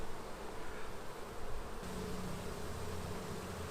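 Honeybees buzz at an open hive in a dense, continuous drone, close and steady, with no voices.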